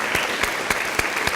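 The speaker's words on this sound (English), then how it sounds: "give our parents a round of applause for nurturing and helping our students along" An audience at a high school graduation ceremony claps for the parents, a dense, even wash of many hands applauding steadily throughout.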